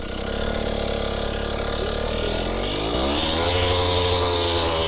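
A motorcycle engine revs steadily and loudly as the rider opens the throttle, its pitch climbing partway through and holding a higher, sustained drone to the end, with no talking.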